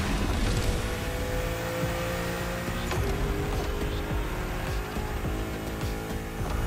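BMW M4 Liberty Walk Edition racing in The Crew Motorfest, a steady high engine drone with whining tonal layers and road noise, continuous and loud throughout with a slight shift near three seconds.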